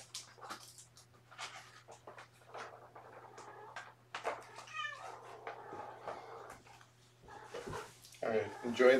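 Several short cat meows, some high and kitten-like, scattered among rustling and a person speaking softly, with a steady low hum throughout.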